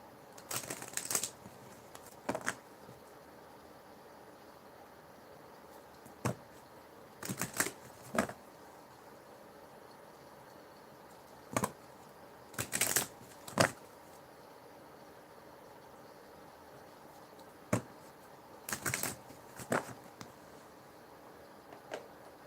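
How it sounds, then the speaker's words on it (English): Sharp, irregular clicks in a quiet room, arriving in short clusters a few seconds apart with faint background hiss in between and no talking. "I'm hearing a clicking sound that I'm not supposed to be hearing."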